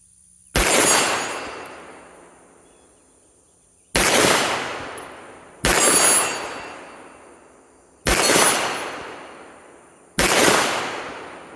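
Five loud gunshots from a Girsan RC 9mm pistol fired outdoors at a range, sharp cracks spaced one to three seconds apart, each trailing off in a long echo.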